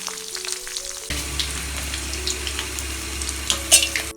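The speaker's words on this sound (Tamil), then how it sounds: "வெண்டைக்காய் புளிக்குழம்புக்கு ஒரு 1/4 கப் எண்ணெய் விட்டு வெண்டைக்காய் பொரிச்சிடலாம்." Sliced okra fries in about a quarter cup of oil in a pan, a steady close sizzle that begins abruptly with a low rumble beneath it and carries on with faint stirring crackles.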